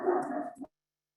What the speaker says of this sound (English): my dogs are playing with each other